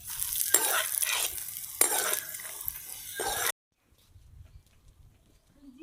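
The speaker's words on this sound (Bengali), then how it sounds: "জিরা ফোড়ন দিয়ে দিলাম।" Cumin seeds hit hot oil as a tempering for a Bengali banana-flower (mocha) dish and crackle loudly. There are a few sharp surges of sizzling and stirring, then it cuts off abruptly into near quiet.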